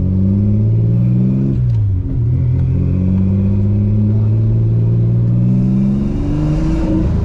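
A turbocharged 3800 engine in a Camaro pulls under boost, loud and close, with a steady droning rumble that dips briefly and then climbs again as the revs rise.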